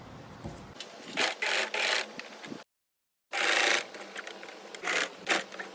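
Sewing machine stitching a blouse lining: bursts of whirring stitching in short runs, close and moderately loud, broken by a brief pause of silence, with no talk.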